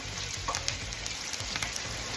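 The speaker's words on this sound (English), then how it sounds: "This is in the cast iron pan. I have this frying pretty low, on medium to low heat." Steady crackling sizzle of chicken frying in oil in a cast iron pan over medium-low heat, close up and fairly quiet, with faint pops and no speech.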